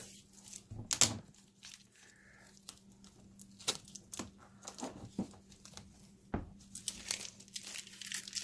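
Black electrical tape being cut and peeled off a silicone-lined soap mold: scattered crinkling and tearing crackles with sharp snips, close and fairly quiet, no talk.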